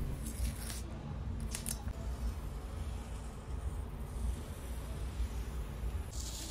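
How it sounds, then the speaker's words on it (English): A razor knife trims excess tape along the edge of an old French Provincial dresser, giving a few short scratchy slicing strokes over a steady low background hum, close and without speech. "I get to use a razor knife to cut all of the excess off and give myself a nice crispy line"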